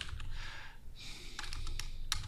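Quiet typing on a computer keyboard while someone works at a PC: a few scattered soft clicks and taps in irregular rhythm over faint room noise.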